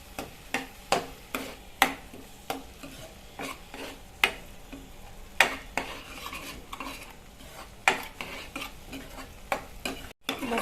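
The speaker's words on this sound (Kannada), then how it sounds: "ಎಲ್ಲ ಒಂದ್ಸರ್ತಿ ಬೆರೆಸ್ಕೊಳ್ಳುವ" A spoon stirs cumin powder and turmeric into rajma masala frying in a pan, close rhythmic scrapes and clinks against the metal about twice a second over a soft sizzle, with no talk.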